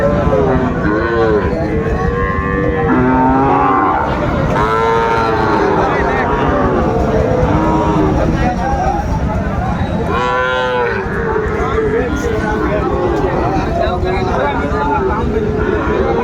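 Sahiwal bull calves at a busy cattle market moo repeatedly and loudly, several overlapping calls rising and falling throughout, over a constant crowd murmur and nearby talk.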